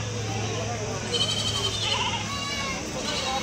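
Goats bleat repeatedly at a busy Tuesday goat market in Kadiri, mid-distance calls rising over steady crowd murmur and talk, with a low constant hum running underneath.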